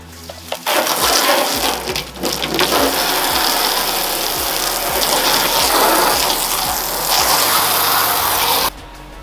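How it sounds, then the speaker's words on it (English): A hose sprays water steadily over a truck tailgate during paint prep, a loud continuous gushing rush that runs almost the whole time with brief breaks at the start and end. "I'm gonna go ahead and hose this thing off so it gets primer on it."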